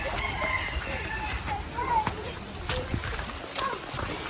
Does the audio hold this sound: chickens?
yes